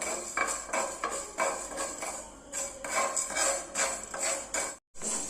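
Fenugreek seeds dry roasting in a pan for sambar powder, stirred with a spatula: a close, rhythmic run of scraping and rattling strokes with a brief break near the end, and no talk.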